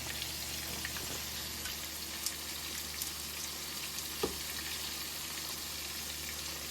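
Fish fillets fry in a pan with a steady, soft sizzle and crackle, a few small pops rising above the even hiss.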